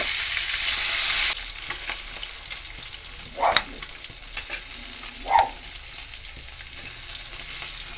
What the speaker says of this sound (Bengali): তেলটা গরম হয়ে গেছে কাঁটাগুলো ভেজে নিচ্ছি কাঁটাগুলো লাল লাল করে ভেজে নেব